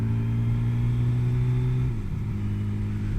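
A Kawasaki Z1R TC Turbo motorcycle idling nearby, a steady low engine drone that dips briefly in pitch before settling again.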